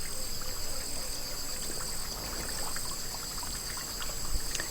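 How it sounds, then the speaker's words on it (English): A small trickle of water at the source of the Nile, a faint continuous dribble outdoors with insects and crickets buzzing steadily in the background. "Just a little drip."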